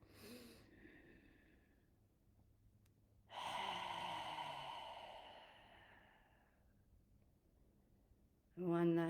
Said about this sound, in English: Inhaling through your nose, exhaling through your mouth.